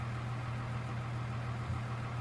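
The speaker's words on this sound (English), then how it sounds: "Now listen to the purr of that engine." Farm tractor idling in Farming Simulator 2013, a steady low mechanical hum with a constant deep tone and faint rumble, moderately quiet and continuous with no voices.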